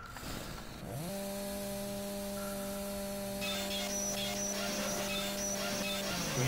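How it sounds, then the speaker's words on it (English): A chainsaw in the video game Doom 3 revs into a steady buzzing drone after a moment of quiet, holding a constant pitch for several seconds with a brief rise and drop at the start, alone and fairly close. "we have the chainsaw."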